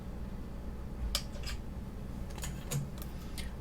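Scissors snip through a brocade glass cane, giving several sharp, faint clicks in two small clusters against a quiet room background, with no voices.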